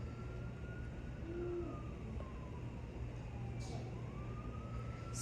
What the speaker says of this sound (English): Excuse the ambulance in the background.